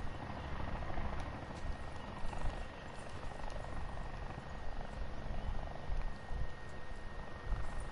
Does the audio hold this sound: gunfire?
no